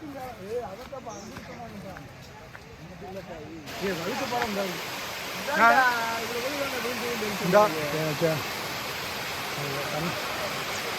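The Varattaru waterfall at Valukkuparai makes a steady rushing roar that grows fuller partway through, while people talk nearby over the continuous water noise.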